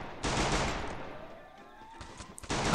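A Glock 18 fires in the battle-royale game Garena Free Fire, a sharp burst at the start with ringing tail, then a few fainter shots and another burst at the end, fairly quiet overall.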